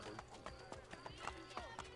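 Horse hooves in an Assassin's Creed game, a quick rhythmic clip-clop of a running horse, faint and close, with voices talking over it.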